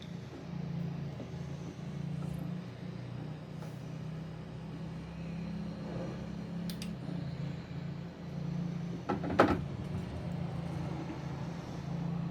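A Logitech G923 racing wheel in use while playing Forza Horizon 4: a low steady car-engine drone from the game runs throughout, broken by a few faint mechanical clicks and one sharper knock near the end, with no talking.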